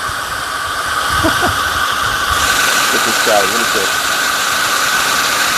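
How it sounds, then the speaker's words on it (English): A hair dryer gives a steady, loud hissing whir throughout, its pitch shifting partway through, while someone speaks briefly over it. "but I'm going to use a hairdryer."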